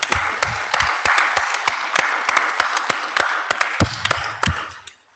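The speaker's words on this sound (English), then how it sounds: "Please give them another round of applause because that's a lot of money." Plenary audience at an IETF meeting breaks into applause, dense sharp claps from a large crowd, loud and steady throughout before tapering off at the end.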